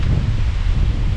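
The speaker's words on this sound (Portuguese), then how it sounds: "Olha o barulho das árvores." Strong, icy wind gusting through trees in Brazil's coldest town, a steady broadband roar and rustle that stays loud and unbroken throughout with no voices.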